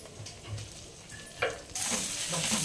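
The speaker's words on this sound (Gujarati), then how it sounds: "હવે હળદરને થોડીક એવી તેલમાં સાતરી લઈશું" Turmeric sizzles in hot oil after mustard seeds, with a few soft stirring knocks before the frying surges louder and steadier partway through, close and without talk.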